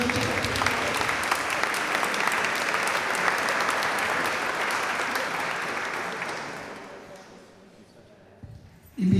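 Crowd applause at an evening gathering about living with Parkinson's, honouring a man who rides a bicycle: loud, dense clapping with cheering voices that gradually fades toward the end before a sudden brief noise.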